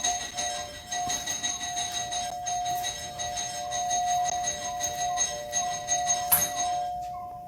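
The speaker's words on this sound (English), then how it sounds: "There's somebody ringing the doorbell." Doorbell ringing in the middle of the night, a bright repeating chime tone sounding steadily with light clinks, fading out at the end.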